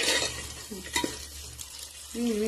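Potatoes fry in a pan with oil and vegetables for vegetable biryani, giving a soft, steady sizzle with a few scrapes of stirring. Brief background tones rise over the cooking noise.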